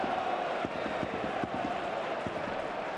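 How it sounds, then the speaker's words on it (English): Video game football stadium crowd in FC Cartagena vs CF Fuenlabrada, a steady roar of fans with scattered claps and thumps, sustained and loud throughout. "he has the crowd riled up"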